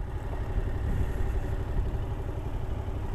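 A Yamaha MT-07 Tracer motorcycle rolls along in first gear, its engine giving a soft, steady low rumble close by with no sharp revving.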